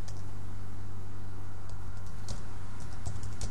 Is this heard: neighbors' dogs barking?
no